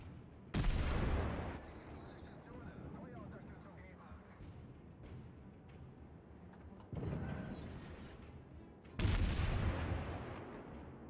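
Naval cannon fire in World of Warships while playing the cruiser Königsberg: two or three heavy booming salvos with rumbling tails, separated by quieter game ambience, with someone talking throughout.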